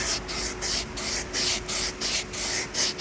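Heavy-grit sandpaper worked across a guitar body's wood in rhythmic back-and-forth strokes, a close, steady rasping hiss of about ten passes with no talk.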